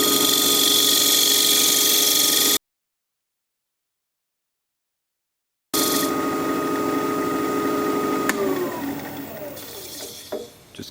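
A 3/8 inch bowl gouge cuts into the base of a wooden pedestal bowl spinning on a lathe, a steady loud scraping whir broken by a gap, then fading as the cut eases off.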